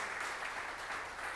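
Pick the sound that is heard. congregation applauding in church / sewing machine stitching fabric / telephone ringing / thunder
congregation applauding in church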